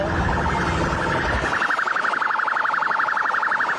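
A privately bought ambulance runs its siren: a loud, fast warbling wail rises out of a noisy rumble and then repeats rapidly and steadily until the end.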